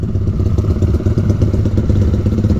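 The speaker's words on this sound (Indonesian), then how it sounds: "Kau tengok motor dia bising tak?" A motorcycle engine rumbles loudly and continuously up close, with a rough, clattering idle and no voices.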